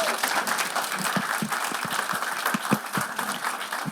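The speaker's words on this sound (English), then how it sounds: "How about a round of applause and welcome for Ron White?" A church audience applauds to welcome a seminar speaker, a steady wash of many hands clapping with a few sharper individual claps, fairly close and without talk.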